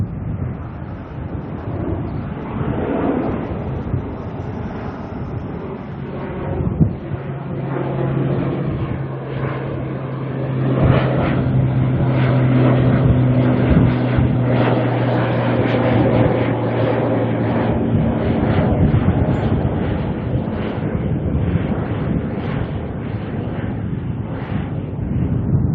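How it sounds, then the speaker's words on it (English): An ATR turboprop airliner passes overhead at Auckland Airport on its way to Palmerston North, a broad rumbling roar with a steady propeller drone that builds through the middle and then slowly eases off, with wind buffeting the microphone. "ATR coming overhead, heading to Palmerston North, NZ"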